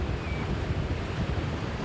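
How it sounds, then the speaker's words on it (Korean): Rough sea at sea: a steady wash of wind and surging waves, with a low buffeting rumble from wind on the microphone, continuous and moderately loud, with no voices. "파도가 심상치 않습니다."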